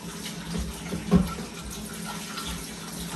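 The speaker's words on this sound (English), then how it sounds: "So I'm just going to wash my hands." Tap water runs steadily into a sink as hands are washed in a kitchen during a Roman Christmas cook-along, a continuous broad splashing rush with a brief louder splash midway and no talk.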